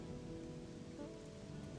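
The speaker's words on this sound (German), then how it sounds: "Dann ist es so, dass es hier regnet." Steady rain falls in the game Gothic 2, a dense, even hiss filling the whole stretch at moderate level with no talk over it.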